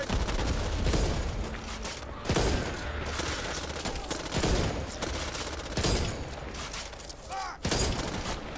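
A gun fires heavily in the Back 4 Blood video game: dense, loud bursts of shots with impacts and mechanical clatter, continuing almost without pause.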